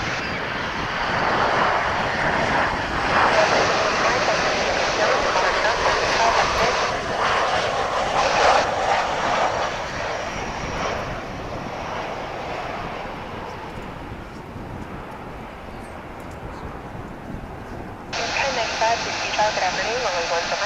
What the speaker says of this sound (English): Here comes American Flight 2019 from Zihuatanejo in Mexico.